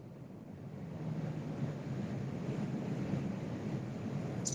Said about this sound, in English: I know this wind is horrible out here.